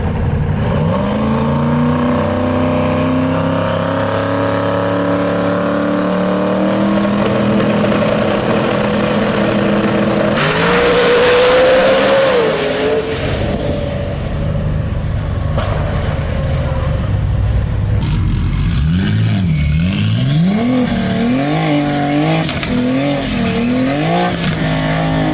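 Drag racing cars at Euro Drag Wars idle and rev loudly, engines rising and falling in pitch before a roaring launch, followed by further revving passes in an open outdoor setting.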